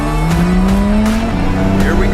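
A 1963 Porsche 356B drives along with a steady, loud engine drone and rising tone as it accelerates, continuous throughout with other road noise around it.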